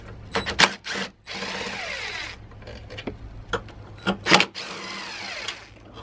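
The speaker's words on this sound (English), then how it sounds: "And then I'm going to remove the two 10mm bolts that hold the airbox in." Removing 10mm bolts holding a BMW N52 airbox, with close, short bursts of power-tool whirring and ratcheting separated by pauses and light clatter.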